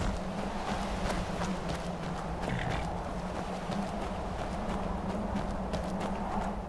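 Horse hooves in the video game Skyrim clip-clop at a steady trotting rhythm over a constant low hum, with no talking.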